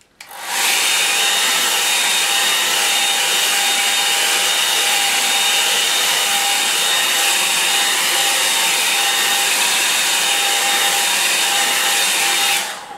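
A hair dryer blows on a drying painting, a loud, steady broadband whoosh with a faint whine, switching on abruptly and running unbroken for about twelve seconds before cutting off.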